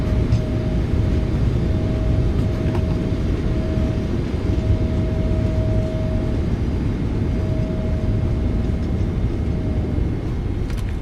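A Boeing 777 airliner in the PMDG flight simulator decelerates after landing with reversers deployed, a steady, loud, broad engine roar with a faint sustained whine riding on top.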